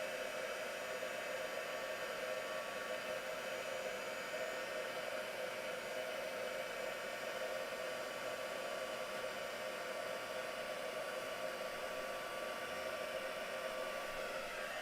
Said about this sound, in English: So we're just heat embossing this now.